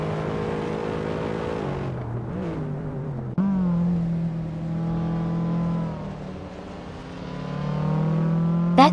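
Racing cars in a video game AI race drone and rev continuously, engine pitch rising and falling as they accelerate and shift, a steady loud motor tone throughout with a brief sharp transient midway.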